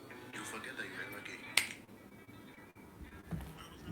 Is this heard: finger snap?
yes